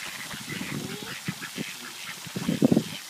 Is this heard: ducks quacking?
yes